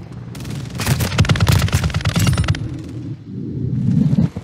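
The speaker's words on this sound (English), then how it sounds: "Shotgun." Rapid bursts of shotgun fire in a first-person shooter game, loud repeated blasts in quick succession for a couple of seconds, then a quieter rumbling stretch.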